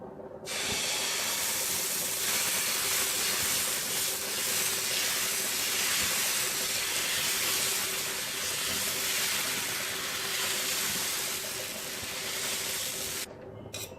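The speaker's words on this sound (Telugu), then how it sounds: "ఇప్పుడు దోశ వేసుకుందాం." Finger millet (ragi) dosa batter sizzles on a hot griddle with a steady, loud hiss that starts abruptly, holds almost unchanged for about thirteen seconds, then cuts off, with no talking.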